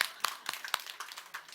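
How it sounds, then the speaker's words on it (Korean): A church group in a Korean Sunday gathering giving a short burst of clapping, several sharp claps in loose rhythm, moderately close and fairly faint. "박수."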